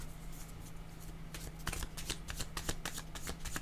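Tarot cards being shuffled up close, a steady run of crisp riffling and papery snaps that grows busier and louder toward the end, with no talking.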